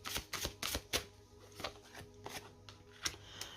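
Tarot cards are handled and drawn from a deck during a reading, a run of close, crisp papery slaps and shuffles in an uneven rhythm, no voice heard.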